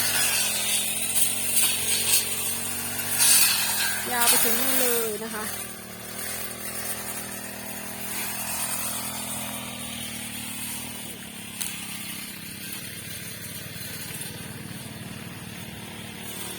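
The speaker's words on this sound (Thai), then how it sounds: "พวกควานท่านเอาเครื่องตัดนะคะ มันก็จะได้รวดเร็วนะคะ ใช้เครื่องตัด" A motorized grass cutter runs steadily, cutting grass for elephants. Its droning engine whine holds throughout while someone talks over it.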